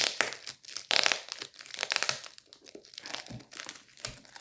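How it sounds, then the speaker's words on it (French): Sticky tape being pulled off a gift parcel, crackling and crinkling in uneven bursts of tearing and rustling, close up with no talking. "si je peux retirer le collant parce que là, c'est bien collé"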